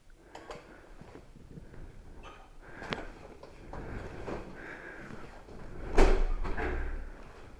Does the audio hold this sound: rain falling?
no